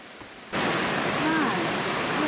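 Water dripping steadily off the bottom of a non-waterproof item, heard as a continuous broadband wash of splashing and trickling after a brief quiet opening.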